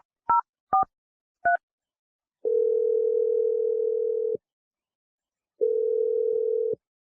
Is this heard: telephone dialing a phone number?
yes